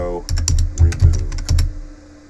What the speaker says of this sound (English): You want to type in sudo apt auto remove.